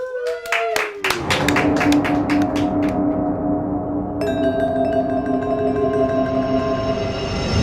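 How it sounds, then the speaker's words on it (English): A short burst of clapping and cheering from a crowd, quickly overtaken by loud music that continues to the end. "give him a round of applause"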